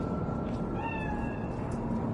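A cat meows in the Cyberpunk 2077 video game, set in Night City: one drawn-out, wavering meow rises over a steady bed of in-game ambient noise.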